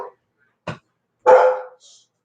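Bernese Mountain Dog barking indoors: one short bark, a pause, then a louder, longer bark that trails off, with a faint higher yip at the end, all without other sound around it.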